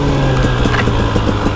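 A KTM 300XC-W two-stroke dirt bike engine runs loud and close, a buzzy, rapidly pulsing revving tone through the short stretch.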